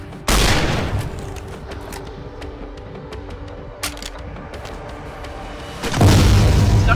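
Gunfire from an AK rifle in Vampire the Masquerade Bloodlines with the Antitribu mod, in a temple-and-tower level: loud bursts open and close the stretch, with scattered sharp shots and game noise between.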